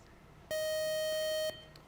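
A single flat electronic quiz buzzer sounds for about one second, steady and loud, then cuts off into quiet room tone.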